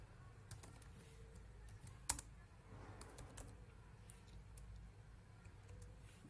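Light typing on a computer keyboard, sparse scattered key taps and a few sharper clicks over a quiet background hum, heard alone without speech.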